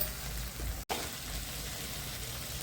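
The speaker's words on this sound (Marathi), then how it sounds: "काजूचे तुकडे टाकलेत, 5-6 काजू घेतलेत आपण. छान भाजून घेऊ आपण आता." Five or six cashew pieces roast in a hot pan with a steady, fairly loud sizzling hiss. A momentary cut interrupts it near the start, then the frying resumes unchanged.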